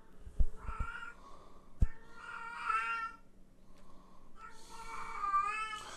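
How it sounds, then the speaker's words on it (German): Indoors, a cat in heat gives long, loud, wavering meows and caterwauls, several in succession, with a couple of sharp knocks near the start. "Nicht wundern, meine Katze ist rollig."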